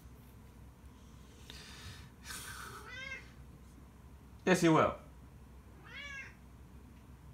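A cat meows about three times nearby, short rising-falling calls mixed with a snort, while a person talks in between.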